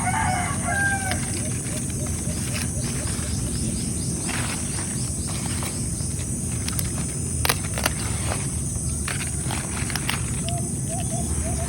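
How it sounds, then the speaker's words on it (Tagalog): A rooster crows amid chickens clucking and birds calling in a backyard vegetable garden with pechay plants, set against a constant drone of insects and outdoor ambience. "gusto ko yung naririnig yung mga huni ng ibon dyan sa paligid, mga tilaok ng manok"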